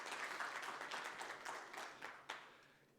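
A conference audience in Istanbul gives a closing round of applause to the moderator and panelists, soft, moderately distant clapping that fades away over a few seconds.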